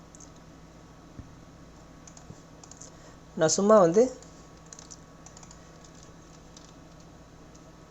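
Quiet typing on a computer keyboard while entering terms and conditions into an Excel invoice, soft keystrokes under a low background hum, with a short burst of speech near the middle.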